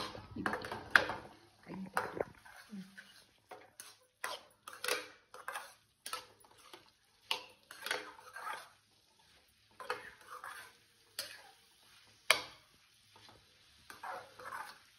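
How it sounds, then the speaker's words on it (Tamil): Yellow pumpkin poriyal with grated coconut stirred in a pan, light scraping and clattering strokes in irregular bursts with a soft sizzle, close and fairly quiet, with a brief voice and a dog bark early on. "தேங்காயை சேர்த்து நல்லா கிளறி விட்டுருங்க."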